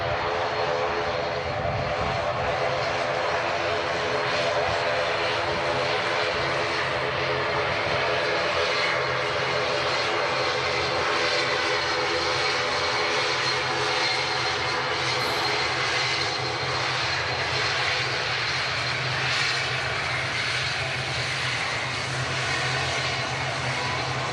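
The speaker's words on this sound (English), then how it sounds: "Aer Lingus ATR 72 in the classic colours." An Aer Lingus ATR 72 turboprop airliner at Manchester Airport makes a loud, continuous engine drone with a steady propeller hum that stays strong for the whole stretch, with no talking.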